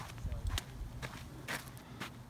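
Small chipmunks scurrying over the forest floor among giant sequoias in Sequoia National Park, California, giving a few quick soft rustling patters close by, separated by brief pauses.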